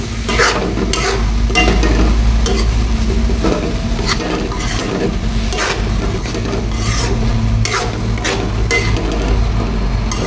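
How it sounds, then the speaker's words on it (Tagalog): Eggs gently stirred in a sizzling pan, with steady frying crackle under repeated scraping and soft strokes of a utensil against the pan, close and continuous without talk. "Daan-dahan lang sa paghalo, baka madurog ang mga itlog."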